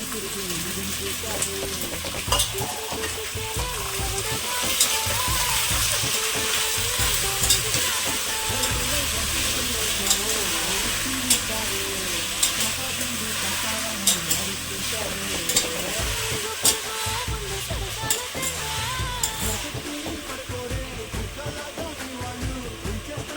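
Potato, carrot, capsicum and green peas fry in a pan for Andhra-style vegetable biryani, a loud continuous sizzle with repeated scraping and clattering of a stirring spoon against the pan throughout.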